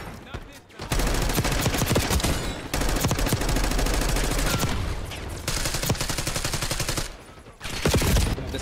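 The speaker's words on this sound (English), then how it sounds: "This SMG reminds me of something, bro." Loud, sustained SMG fire in a fast-paced online shooter match, long dense bursts of rapid automatic shots separated by brief pauses, close and dominant throughout.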